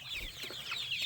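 Chickens in a flock, among them black hens, leghorns and a big rooster, let out a quick run of close, moderately loud clucks and squawks, with no talking.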